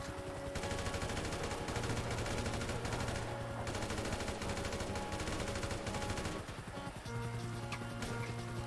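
Rapid automatic gunfire in GTA 5, aimed at a blimp: dense, continuous bursts of shots rattling on with brief pauses between volleys.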